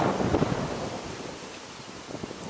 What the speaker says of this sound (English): the piercing southerly breeze and the piercing rain